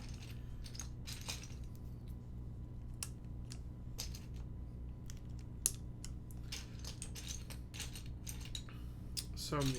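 Plastic GMK keycaps, including a camping-themed set, are pressed onto a mechanical keyboard one after another, giving scattered light clicks and taps over a low steady background hum, with no talking.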